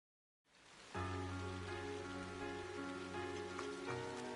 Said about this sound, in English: A rainy spell seemed to hang over Trista.